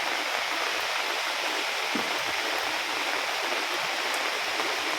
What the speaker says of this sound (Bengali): এত বৃষ্টি,